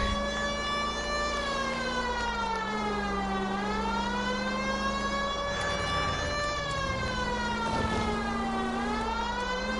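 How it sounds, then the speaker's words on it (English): A police car siren in the video game L.A. Noire wails continuously, its pitch sweeping up and down in slow cycles, loud and close over a steady low engine hum. "Wait a minute, I forget I have a siren."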